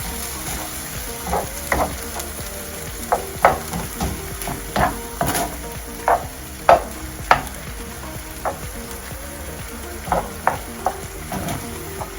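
Seafood pasta sauce bubbling and sizzling in a pan over mild heat, a continuous soft sizzle broken by irregular wooden-utensil taps and scrapes against the pan, close and clear with no talking.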